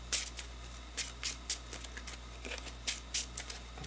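Playing cards are drawn one by one from a deck for an opening hand of six, making soft, quick papery snaps and slides in an irregular rhythm, faint and close, with no talk.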